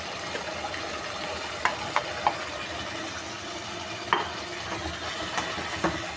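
Ground onion is stirred into softened tomatoes in a pan with a soft continuous sizzle, and a few light spoon scrapes and taps stand out against the frying hiss.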